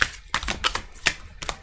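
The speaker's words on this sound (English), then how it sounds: "I do tend to shuffle sort of while I'm doing this" Tarot cards being shuffled during a Scorpio reading, giving a series of short crisp riffling bursts close by, with no talking.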